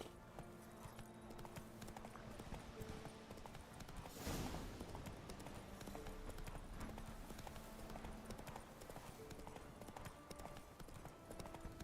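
Hoofbeats of Geralt's horse Roach galloping in The Witcher 3, a steady clip-clop rhythm running throughout over a dense game backdrop of music and ambience, with no voices.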